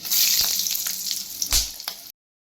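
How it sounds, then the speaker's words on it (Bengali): Dried red chillies and whole spices such as cardamom, cinnamon and black pepper sizzle and crackle steadily in hot oil, close up, with a few sharper pops before the sound cuts off abruptly. "এখন তেলের মধ্যে ছেড়ে দেব কয়েকটা শুকনো লঙ্কা দিয়ে দিচ্ছি"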